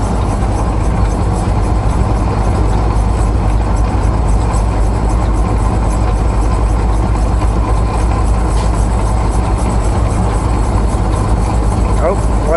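Snow chains rattle steadily on the tires of a driving vehicle, a constant loud metallic rumble and clatter that holds unbroken under the road and engine roar inside the cab.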